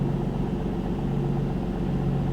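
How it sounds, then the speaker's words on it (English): A single-turbo Nissan 370Z Nismo engine idles with a steady low rumble, constant and close, with no other sounds. "it's been a minute of idling"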